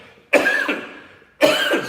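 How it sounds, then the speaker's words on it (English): Two sharp coughs from a nearby man, the first followed by a brief rasp, separated by about a second of quiet. "Excuse me, a little cough"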